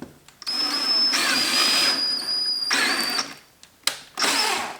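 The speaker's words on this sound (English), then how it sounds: "An easy way to get rid of the plastic holes is to drill them open" Power drill whirring in several bursts as it bores out plastic retaining holes on BMW E46 M3 door cards, high-pitched spinning starting and stopping close up.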